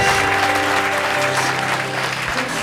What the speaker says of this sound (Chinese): 你的家人都在这里，给他一点掌声好不好？